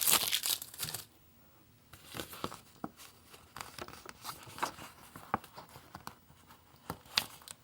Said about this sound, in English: I'm going to take up this plastic part on this one too, just to see if it'll make it easier to get this sticker up